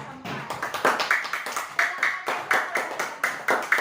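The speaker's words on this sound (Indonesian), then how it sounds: "kita beri tepuk tangan untuk kelompok" A small group of students in an Indonesian classroom claps in a steady rhythm, with distinct, evenly spaced claps continuing throughout, close and fairly quiet.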